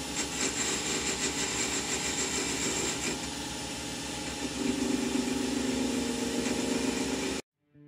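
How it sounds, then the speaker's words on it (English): A lathe spins ash wood while a detail spindle gouge cuts a bead into a small turned box, a steady motor hum under a scraping cut that grows brighter midway before stopping abruptly, with no talk. "I'm just using a detailed spindle gouge just to get a little bit of a bead in there"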